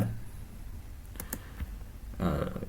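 JavaScript code is typed on a computer keyboard in a few short bursts of crisp keystroke clicks, close by, with quiet pauses between them.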